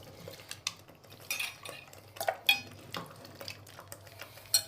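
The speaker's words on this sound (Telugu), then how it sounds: "ఇప్పుడు మనం తలకాయ మాంసం కడిగి పెట్టుకున్నాం కదండి, ఇప్పుడు ఇందులో వేసుకోవాలండి." Washed goat head meat is tipped into a pan of cooking paste, with repeated metallic clinks and scrapes of a utensil against the pan and soft wet stirring sounds, close and fairly loud.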